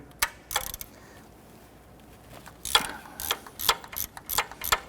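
A hand ratchet loosening a 14mm bolt on a 1992–1996 Toyota Camry 2.2L four-cylinder engine, a few quick clicking strokes early, then a denser run of rapid ratchet clicks, close up.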